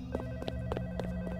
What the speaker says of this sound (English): I'm answering this phone.